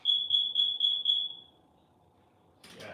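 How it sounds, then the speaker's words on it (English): A home smoke alarm goes off with five loud, evenly spaced high beeps close by, then falls silent before a rustle of movement. "I'm hearing my alarm go off"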